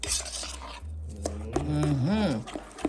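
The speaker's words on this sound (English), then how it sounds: "Get all your spices mixed around in like this" A spoon scrapes and stirs spices through banana fritter batter in a bowl, making close, uneven rubbing and clinking sounds, while a voice hums or speaks over part of it.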